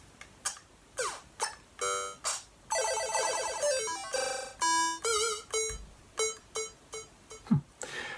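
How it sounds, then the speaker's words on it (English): Chiptune-style bleeps from a pocket operator synthesizer: a sequence of short, bright electronic notes and rapid arpeggiated runs, some buzzy and some pure, played close and fairly clean with no talking. "this is more like a chip-tuney type sound"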